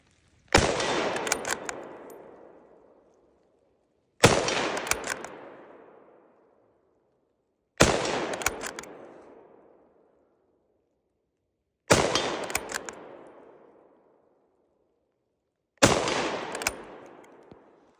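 An M96 Swedish Mauser rifle fires five 6.5 Swede rounds, each a loud, sharp crack with a long echoing decay, spaced about four seconds apart with silence between shots.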